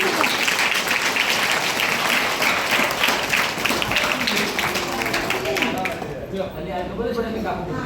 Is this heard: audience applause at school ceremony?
yes